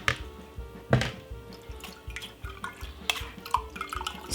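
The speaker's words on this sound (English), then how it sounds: "we're gonna strain it like this." Ginger water strained through a sieve drips and trickles into a container, with irregular close splashes and patters of liquid, some sharper plops standing out over a faint steady hum.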